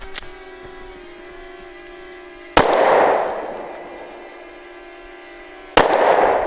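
A Glock pistol fired outdoors on an off-road trail gives two sharp, loud gunshots a few seconds apart, each trailing a short echo, over a steady electric hum.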